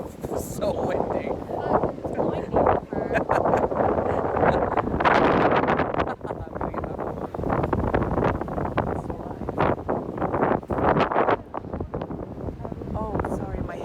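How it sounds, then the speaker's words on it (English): Strong wind in Tunis buffets the microphone in loud, rumbling gusts that rise and fall for the whole stretch, with voices talking intermittently through the roar. "So windy."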